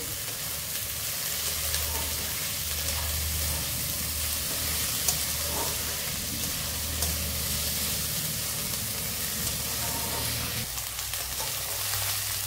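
Vegetables and green peas fry in a pan for a puffed-rice breakfast dish, giving a steady, close sizzle with soft stirring scrapes throughout.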